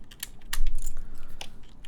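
Clicks and light rubbing come from a freshly built mechanical keyboard whose plastic flashing scrapes when keys are pressed hard, a few sharp close taps in quick succession.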